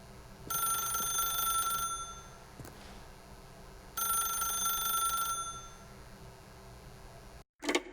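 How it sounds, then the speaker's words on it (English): Telephone in the video game The Stanley Parable rings in two bright, trilling bursts of about a second and a half each, separated by a pause, fairly faint against a quiet low hum. "If you can truly place your faith in another, then pick up the phone."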